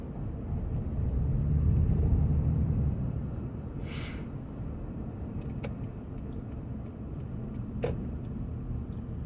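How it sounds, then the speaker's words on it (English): A car driving through the streets of Albany, Georgia, heard from inside as a steady low road and engine rumble that swells briefly, with a few faint clicks and a short hiss. "the sounds of me driving, whatever."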